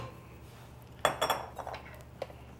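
Cherries are dropped into a bowl, giving a short cluster of clinks and knocks midway and a lone tap near the end, all against a quiet kitchen background.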